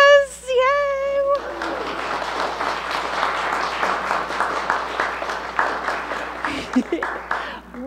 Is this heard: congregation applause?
yes